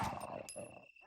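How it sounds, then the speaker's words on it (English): Dogs growling and snarling in the PS1 Resident Evil game near the mansion's garden pool area, a short low rumbling burst over ominous orchestral music, with a brief sharp accent partway through. "Is that the sound of dogs?"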